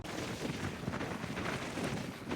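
Strong wind buffeting an outdoor microphone at a scenic roadside spot, a loud, continuous rumbling roar with gusty swells and nothing else heard.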